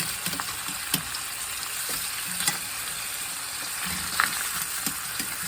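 Pork chops sizzling steadily in a pan as they are flipped, with intermittent scrapes and taps of a utensil over continuous frying noise.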